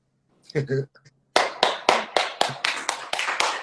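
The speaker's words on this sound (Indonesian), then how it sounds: "Kok banyak sih tepuk tangannya?" A studio audience breaks into a string of sharp, evenly spaced claps after a short spoken phrase. The applause is close and fairly loud.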